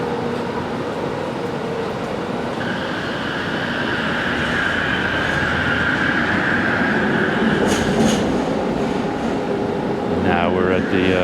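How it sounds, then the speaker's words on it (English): Trains move through the main KTM station in Kuala Lumpur, a steady rumble of rolling stock with brief metallic squeals and tonal whines near the end, loud and continuous in a busy rail hub. "Now we're at the transportation heart of Kuala Lumpur with the main KTM train station, the LRT line, KTM trains."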